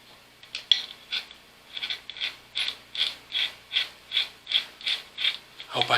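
A ratchet wrench working a nut loose on a blue HDPE plastic barrel, giving a close, even series of sharp metallic clicking strokes that grow more regular as it goes.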